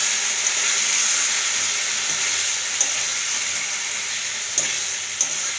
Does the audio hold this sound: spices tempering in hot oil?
yes